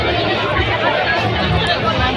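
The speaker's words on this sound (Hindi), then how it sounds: "और इधर देखो इतना सारा भीड़" Dense crowd hubbub at an evening Diwali fair, a continuous loud babble of many overlapping voices close around with steady background bustle throughout.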